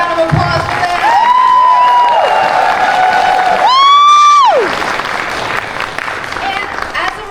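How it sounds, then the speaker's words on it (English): Audience at a J-Fashion show at Anime Boston 2025 applauds and cheers, with sustained clapping, whoops and shouts building to a loud peak while a bright held whistle-like cry rises above the crowd. "So big round of applause for them."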